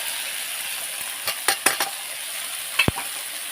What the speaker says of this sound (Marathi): आता भोपळे धुवले ते टाकते त्याच्यामध्ये